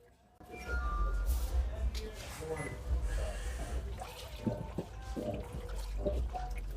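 Water churns and sloshes in a washing machine holding an Oppo Reno 13F phone during a water test, a steady close wash with faint drips and clinks throughout.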